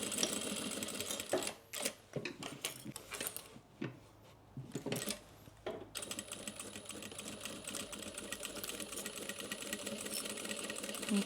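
A sewing machine backstitching the handle of a fabric tote bag, running in short bursts with brief pauses before a long steady close whirring run.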